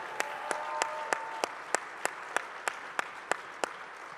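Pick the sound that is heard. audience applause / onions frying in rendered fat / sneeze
audience applause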